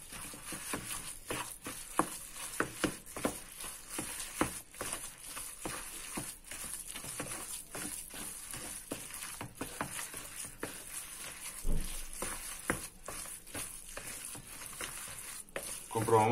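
Seasoned food with garlic is stirred in a hot frying pan, a steady sizzle under repeated scraping and clattering strokes of a utensil that continue close by without a break.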